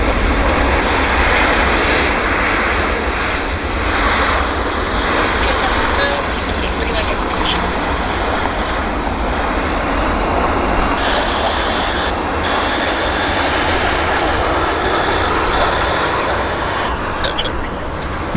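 A fixed-wing airliner landing at Vancouver International Airport on a misty morning: a loud, continuous engine and rushing roar that holds steady, with a voice heard faintly over it.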